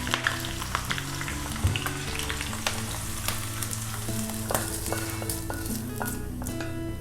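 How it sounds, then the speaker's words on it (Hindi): Sliced ginger and chopped green chilli sizzle in hot ghee as a tempering for chole, a loud, close crackle with scattered sharp pops and occasional stirring clinks. "अब इसमें हम हरी मिर्च कटी हुई और ये अदरक स्लाइस की हुई थोड़ा सा छौंक लगा के"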